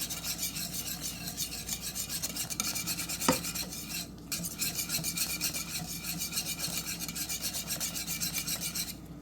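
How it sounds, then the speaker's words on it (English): A rum cake mixture boiling in a pot is stirred steadily for a long stretch, giving a continuous rasping scrape of spoon against the pan's base over a low bubbling hiss, with one brief sharp knock partway through. "I'm going to keep stirring it for about 2 minutes"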